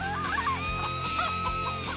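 A rooster clucking close by in a steady, repeated rhythm, loud and continuous, with no talking.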